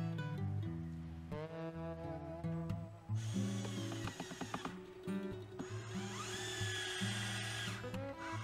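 A power drill driving screws into wooden pallets while assembling a pallet compost bin, with repeated whirring bursts that rise in pitch and stop, loud and close, with no talk.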